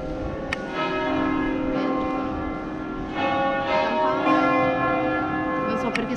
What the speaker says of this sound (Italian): 10:15 è un'ora giusta per far suonare la campana.